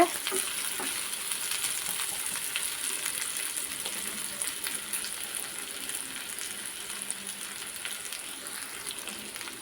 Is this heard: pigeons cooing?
no